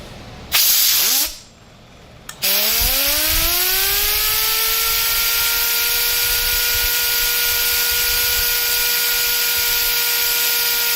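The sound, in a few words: turbocharger spinning up on a test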